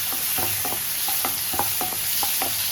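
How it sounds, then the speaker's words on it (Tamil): Sour tomatoes sautéing in a pan: an even, close sizzle broken by a series of regular scraping taps of a spoon stirring them, about eight strokes in quick rhythm, with no talk. "இப்போ தக்காளி வதங்கட்டும்"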